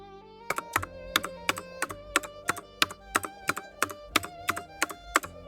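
AI-generated mechanical keyboard typing, a steady run of crisp, clacky keystrokes at an even pace, close and clear, with a faint tonal hum beneath and no voices.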